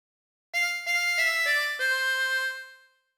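A 24-hole tremolo harmonica plays a short phrase of the folk song Ampar Ampar Pisang: five or six distinct notes, each with a shimmering, slightly wavering reedy tone, ending on a held note that fades out, with no other sound.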